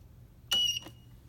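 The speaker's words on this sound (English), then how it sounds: "Just hold the button down, the power button, until it beeps." One short, sharp electronic beep sounds from a UPS as its power button is held, followed by a faint relay click, in an otherwise quiet room.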